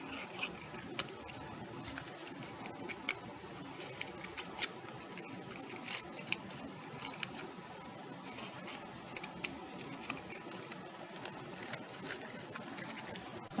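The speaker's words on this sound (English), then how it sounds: "I'm just gonna use my scissors" Scissors snip repeatedly through paper in a quick, irregular rhythm of crisp little cuts, quiet and close, with no talking.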